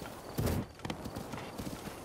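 Horse hooves clip-clop in The Legend of Zelda: Breath of the Wild, a loud burst of footfalls at the start giving way to a steady, fainter trotting rhythm, with a brief whinny-like sound.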